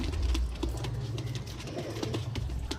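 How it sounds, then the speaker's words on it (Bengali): Pigeons coo softly nearby, low rolling throaty calls repeating over faint rustling and fluttering. "আফজাল ভাই, তোমার এই পায়রা তো দেখে নিও"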